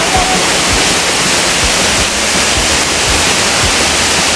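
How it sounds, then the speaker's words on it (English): A waterfall in the Philippines roars as a dense, continuous wash of rushing water, loud and close, with no pauses and no talk. "So, it's almost time to go to the waterfall, guys."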